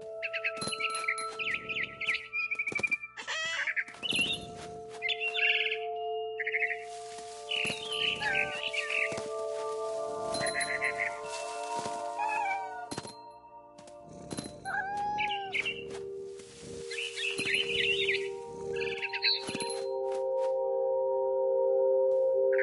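A bird chirps and tweets in a video game, with sharp, scattered chirps and calls alongside cat meows and caterwauls, all set over a steady layer of game music that runs throughout.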